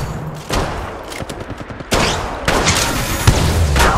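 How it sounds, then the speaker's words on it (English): Bursts of automatic gunfire in the mobile battle royale game Apex Legends Mobile, rapid volleys crackling loud and close in several clusters over a few seconds. "Listen up, I'm getting shot at."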